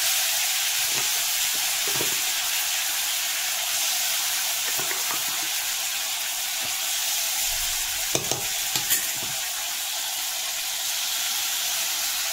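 Spices go into a pan where katla fish and cauliflower are frying, producing a loud, steady sizzle with occasional stirring scrapes throughout.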